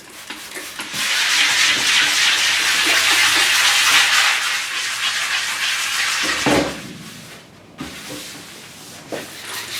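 Steady wet sanding of paint primer on a garage fighter-seat build with 240 grit paper: a continuous hissing rub for about six seconds, then a pause and a few short scrubbing strokes and knocks.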